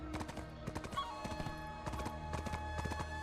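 Horse hooves clip-clopping at speed in a video game set in the land of the morning light, a steady rhythmic pattern of hoof strikes under background game music, fairly close and moderately loud.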